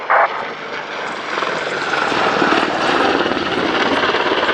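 An Apache helicopter gunship flies over an airfield at the RIAT 2015 airshow, its loud rotor and engine drone swelling steadily and continuously, with no voices.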